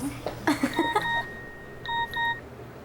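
Phone text message notification, a short burst of bright electronic tones followed by a second cluster of beeps a moment later, fairly loud and near, with no talking.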